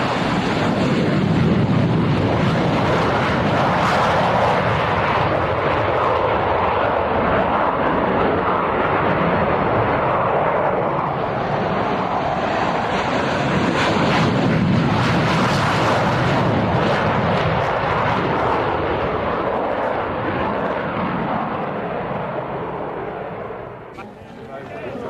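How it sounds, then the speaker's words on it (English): USAF F-15 Eagle jets flying at an airshow, a loud, broad roar that swells and holds across the whole stretch, heard from a distance, rough with wind buffeting, and easing off slightly near the end. "And F-15 Eagles from the United States Air Force."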